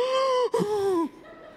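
Loud, heavy, wheezing breaths from an obese man, a long strained voiced exhale, a brief gasp, then another drawn-out rasping breath that fades off.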